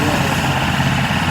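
Helicopter engine idling on the ground after landing for an emergency arrival, a steady close-up rumble with turbine whine throughout, with speech partly mixed in.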